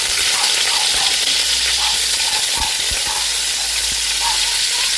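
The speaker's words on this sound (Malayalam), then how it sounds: "അതിലോട്ട് ഞാൻ കറിവേപ്പില ഇട്ട് കൊടുക്കുകയാണ്." Curry leaves drop into hot oil for chicken perattu, giving a loud, dense, continuous sizzle and hiss close up, with faint low knocks underneath.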